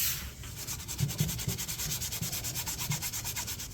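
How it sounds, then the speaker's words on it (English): Light hand sanding with 600 grit sandpaper over a shellac finish on a 1930s wooden end table: rapid, rhythmic back-and-forth rubbing strokes, close and soft, with no voices. "I'm going to lightly sand this with 600"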